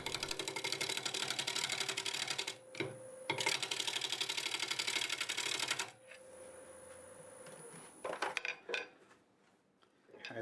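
Apple wood bowl turning on a wood lathe, a gouge cutting with a dense, rattling chatter in two long loud bursts, then a quieter whine with scattered ticks and scrapes toward the end.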